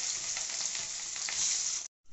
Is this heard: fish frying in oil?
yes